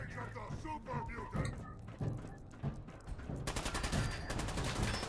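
Super mutants open fire in Fallout 4, rapid game gunshots crackling in bursts over a busy mix, growing denser and louder toward the end while people talk over it.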